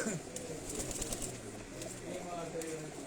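Red pigeons on a rooftop loft coo in a soft, continuous low murmur, with brief wing flutters and bird calls mixed in at moderate distance. A voice is faintly present in the background.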